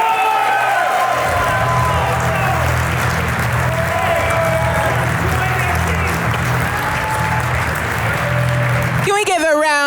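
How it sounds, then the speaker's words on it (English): Sustained, dense audience applause fills a conference hall after a talk at ng-conf, steady and loud throughout, with a low hum beneath and a voice breaking in near the end. "Can we give a round of applause?"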